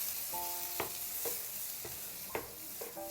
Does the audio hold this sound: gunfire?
no